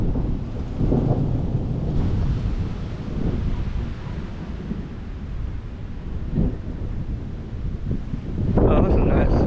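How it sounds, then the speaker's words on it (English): An afternoon thunderstorm with low rumbling thunder and gusting wind buffeting the microphone, loud and continuous, with a stronger gust at the end. "Here comes some wind, guys."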